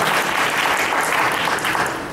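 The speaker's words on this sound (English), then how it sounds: "let's give a big round of applause for all of these speakers" A meetup audience at a Hadoop user group gathering claps for the speakers, a brief burst of dense, even applause that begins to fade at the end.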